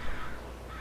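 A brief burst of crow cawing, harsh and somewhat distant, blurred into steady ambient noise.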